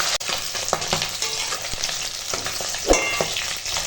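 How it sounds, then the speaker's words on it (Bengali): Katla fish fries crisply in a hot pan with oil, a loud, steady close sizzle with a few sharp scraping clicks from turning the pieces, no talking. "এরকম কড়া করে মাছ ভাজা খাওয়া হবে আজকে"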